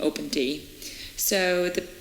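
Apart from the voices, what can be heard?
No everyday noises stand out.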